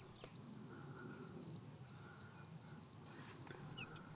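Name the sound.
insects chirping in a wildflower meadow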